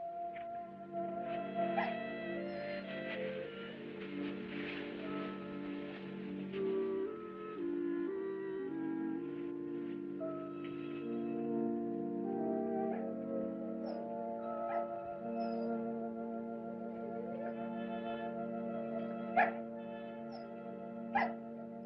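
A dog whimpers and whines in drawn-out, wavering tones with a few sharper yips and barks near the end, steady and moderately close against a quiet background.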